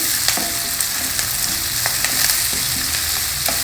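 Chopped onion fries in a pan with a continuous sizzle and the occasional scrape of stirring, heard close up with no talking.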